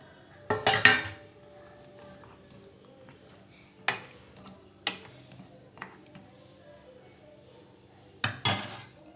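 Drumstick pieces go into a pot of vegetable sambar, giving a cluster of clattering metallic clinks at first, then a few isolated knocks and a final burst of clatter, with quiet gaps between.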